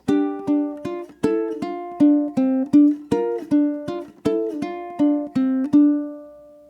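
A ukulele plays a series of short chord strums with melody notes picked in between, in a steady rhythm, ending on a ringing final note.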